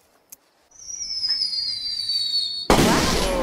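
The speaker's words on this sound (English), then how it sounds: "Who put the fireworks on in the middle of the day?" Fireworks in the horror video game The Quarry: a rising whistling launch climbs for about two seconds, then a loud, sudden burst crackles and rumbles close by.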